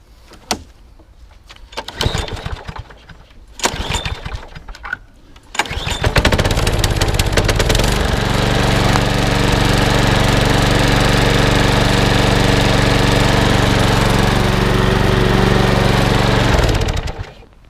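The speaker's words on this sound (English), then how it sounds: "So now that mower is now up and running and working" A Hayter 41 lawn mower, just serviced and given a drive repair, runs loudly and steadily up close after a few clicks and pulls on the starter, then cuts out near the end.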